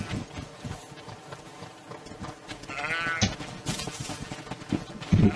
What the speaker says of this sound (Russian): Баранчики еще бегают.